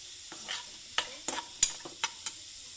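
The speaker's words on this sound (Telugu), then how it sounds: "పెనంలోని ఉల్లిపాయలు, టమాటాలు వేసి వేపేసుకుందాము." Onions and tomatoes stirred in a hot pan, with a faint sizzle under a series of sharp spatula scrapes and clinks against the metal, about seven distinct strokes in quick, uneven succession.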